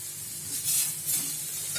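Mustard and fish paste fry in a pan for a small-fish banana-stem dish, giving a steady, close sizzle with faint stirring scrapes that swell and ease over a couple of seconds.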